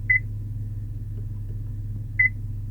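Two short, clean electronic beeps from the voice command system of a 2018 Honda Pilot, spaced about two seconds apart over a low cabin hum.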